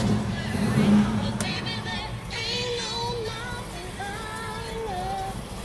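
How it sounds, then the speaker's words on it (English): 1969 Camaro engine idling in a rumbling, uneven low throb, close by and steady, with faint voices murmuring alongside. "right now just listening to it, your idle could be a little bit higher than where it is"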